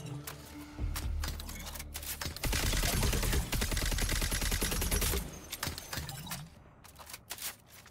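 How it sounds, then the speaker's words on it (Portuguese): Automatic weapon fire in the shooter game Concord: a few scattered shots, then a loud sustained rapid burst for a couple of seconds, tapering into sparse single shots near the end. "Olha lá quantos tiros tem que dar."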